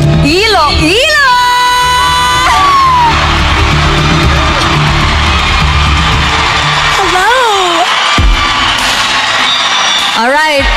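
Pageant audience at the Miss Universe 2024 top 10 question round, cheering, yelling and whooping loudly and continuously, with a host's voice heard over the crowd noise.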